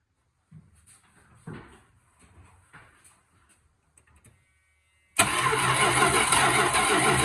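A 1979 Dodge D100 pickup that has sat for ten years is cranked over. A few clunks and soft knocks come first, then the starter kicks in and the engine cranks loudly and steadily right up close.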